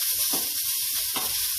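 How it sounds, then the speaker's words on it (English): Bacon (speck) frying in a pan in its own fat with no added oil, for seafood chowder: a close, continuous bright sizzle with a couple of louder crackling bursts as it is stirred. "cook your speck or your bacon until it's crispy"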